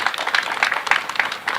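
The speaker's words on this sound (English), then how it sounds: "huge applause" An audience at a business leadership panel applauds with a dense, steady patter of clapping from many hands, fairly loud and continuous for a brief moment.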